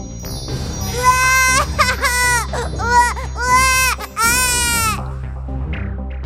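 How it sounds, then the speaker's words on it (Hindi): A baby girl wails loudly and continuously in rising and falling sobs, close up, over a low steady background hum, with no other voices. "पालने में रखते ही बच्ची जोर जोर से रोने लगी"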